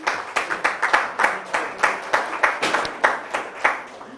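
Audience applause at a community event on rising energy costs in New Jersey, a steady patter of many hands clapping that keeps going for several seconds at close range, with no voices over it.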